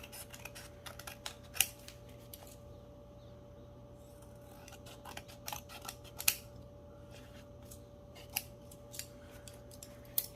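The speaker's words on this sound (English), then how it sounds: "I'm going to cut this excess off" Scissors snip off excess material from a stitched button card, sharp, close cuts coming in irregular bursts over a quiet background.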